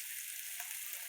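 Radish bhaji sizzles and crackles in a hot pan as it is stirred, a brief, close, steady hiss with no voices.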